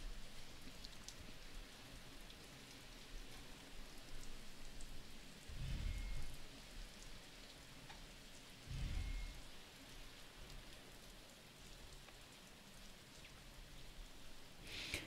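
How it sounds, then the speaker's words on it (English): Heavy pouring rain falls steadily and fairly quietly, a continuous broadband hiss with a couple of brief swells, with no talking. "It's pouring rain here."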